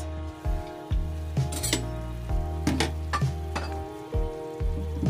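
Potatoes and onions tipped into a pot of Filipino beef stew (nilagang baka), with repeated clattering, clinking knocks of utensils and pan against a soft sizzle, close by.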